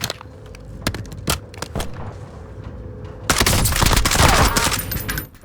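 Gunfire in Call of Duty Warzone: scattered loud single shots and short bursts, then a dense, sustained fusillade of rapid shots close by.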